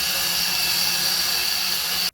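Suhner UBC belt grinder fitted with a right-angle 19mm arm, running with a steady high-pitched whine and hiss that stops abruptly at the end.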